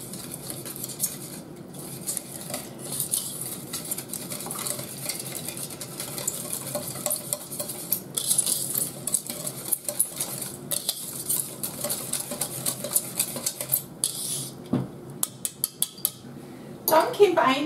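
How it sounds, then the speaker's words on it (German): A utensil stirs milk, oil and eggs in a bowl with steady scraping and clinking against the sides, bright metallic taps near the end, and a voice speaking intermittently over it. "Das wird jetzt verrührt."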